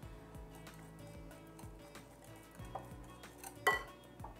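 A utensil clinks against a bowl while thick yogurt, thinned with a little water for fatteh, is stirred: soft, rhythmic taps repeat at a steady pace, with one sharper clink near the end and no voices.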